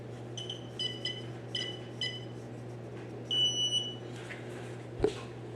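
An electrical tester gives a series of short, high electronic beeps in pulsed bursts, then a longer warbling tone, followed by a sharp knock near the end, fairly close, with no talk.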